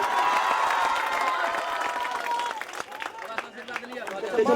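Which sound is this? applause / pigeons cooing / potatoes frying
applause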